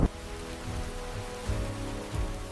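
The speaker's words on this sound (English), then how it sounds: "Suddenly, dark storm clouds gather overhead, and a heavy rain begins to fall." Heavy rain falls under a dark storm, a steady dense hiss of drops on the ground with a few louder bursts and no voices.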